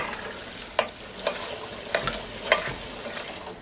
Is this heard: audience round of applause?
no